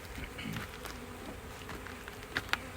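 Honeybees from a package being installed in a hive buzz as a steady, close drone of many insects, with a couple of brief handling clicks near the end.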